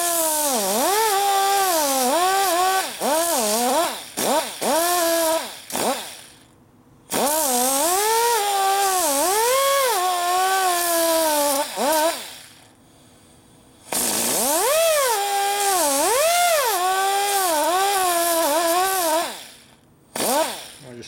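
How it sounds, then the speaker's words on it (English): A rotary grinder cuts a 45-degree chamfer on a gear tooth for a 1957 Harley panhead drag bike. Its whining pitch swoops up and down repeatedly in several bursts separated by short silent pauses. "Do a 45 degree chamfer is all I'm doing on it."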